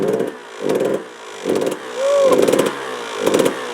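A 2-stroke dirt bike engine that may have a bad reed, revved in five short, evenly spaced bursts with a rough idle between them, loud and close with no talking.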